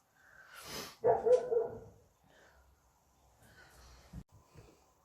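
A puppy barks and yips a few times from downstairs, muffled, then goes quieter with a soft whimper.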